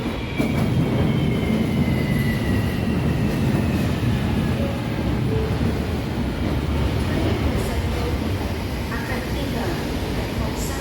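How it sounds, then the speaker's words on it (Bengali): A train pulls into a railway station with a loud continuous rumble and rolling wheel noise filling the platform, while people talk nearby over it. "ওই যে আমাদের ট্রেন চলে আসছে"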